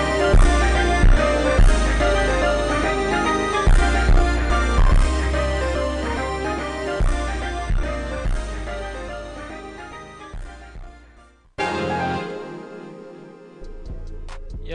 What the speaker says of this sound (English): another thing I added in was this slowed triplet effect at the end of the